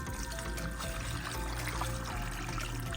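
Water poured into a cooking pot for boiling crab, a soft, steady splashing stream heard close and fairly quiet for a few seconds with no talk.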